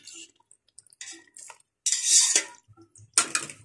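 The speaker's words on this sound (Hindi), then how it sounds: "तो अब हम ढकना ढक लेंगे।" A lid set onto a cooking pot while ojri (tripe) curry simmers, giving a few short metallic clinks and clatters with brief pauses between, close by and fairly clear.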